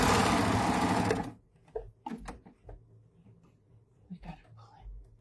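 A sewing machine runs in a loud, steady whirring burst while stitching a floral bookmark, then stops abruptly, followed by soft handling clicks and quiet whispered talk.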